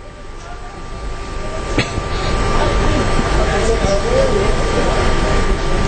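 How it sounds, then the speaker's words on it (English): A train pulls out of a station at an inauguration ceremony with a continuous drone that builds and stays steady, a sharp clank partway through, and faint crowd noise in the background. "the siren blaring, and the train is going to chug off now from the station"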